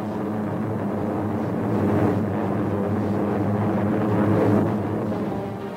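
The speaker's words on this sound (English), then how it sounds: "And carrier planes fill the skies overhead." Carrier planes fly overhead during a 1945 naval fleet review, a loud, steady droning engine roar that swells and recedes slightly, heard alone without talk.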